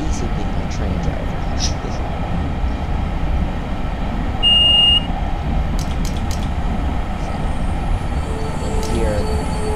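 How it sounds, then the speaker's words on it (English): A single short, high electronic cab warning beep sounds once over a steady, loud rumble of a train engine in the Train Simulator 2018 game, on a New Jersey Coast Line route. "that beep, you have to apply the brakes"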